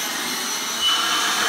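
A vacuum cleaner of the kind sold through TV shopping ads runs in a home, a steady loud high-pitched whine and rush of air that carries on without a break, close by, with no talk.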